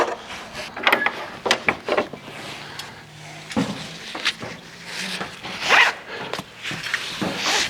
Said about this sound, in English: pull the strap tight, pull that lever back, and begin to crank her tight